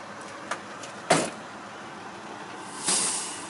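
Truck driver climbing back into a tractor cab during a CDL pre-trip, with a short click, a sharp door thud and a later sliding clunk over quiet background hum.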